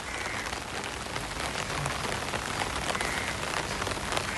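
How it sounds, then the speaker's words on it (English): Steady rain falls in Phuket, Thailand, a dense, even hiss of drops on surfaces that continues without a break around the listener while walking. "you have to work in the rain"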